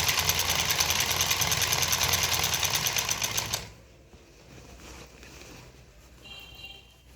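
A sewing machine stitches a seam on a samosa-cut pajama, running in a steady fast whirring rattle for about three and a half seconds before stopping, leaving quieter handling noise.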